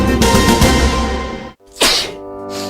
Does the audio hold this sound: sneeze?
yes